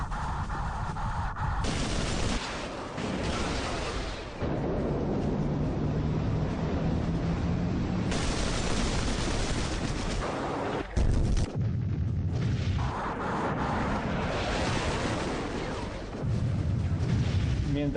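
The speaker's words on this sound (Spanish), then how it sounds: "sobre las columnas de sus explosiones, de la explosión de sus bombas" Bombs burst in a dense series of loud, broadband blasts and rumbling booms, one after another, from an air attack during the Falklands (Malvinas) conflict, with a continuous roar filling the gaps.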